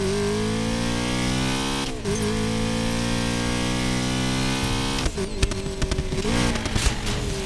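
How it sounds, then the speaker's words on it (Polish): A BMW engine in Need for Speed Payback holds a loud, steady harmonic drone that dips at the gear changes, then turns rougher and revs up and down through the final seconds, heard alone with no talk. "BMW brzmi fantastycznie."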